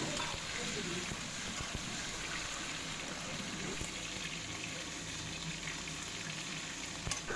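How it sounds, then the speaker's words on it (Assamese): Chopped tomatoes fry in a pan with bay leaves and cardamom while a chicken curry is cooked, giving a steady, close sizzle that stays at an even level throughout with light stirring. "এনেকৈ বিলাহীখিনি 2 মিনিটমান সময় ভাজিছে।"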